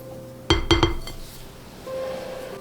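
Ingredients being stirred into mashed bananas in a bowl, with a quick cluster of three or four sharp clinks of a utensil against the dish, then a soft, quieter background hum.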